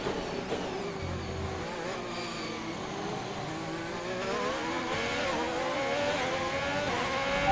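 A Formula 1 race car engine in the F1 2021 video game holds a steady high whine that slowly rises in pitch and loudness as the car accelerates, without talk.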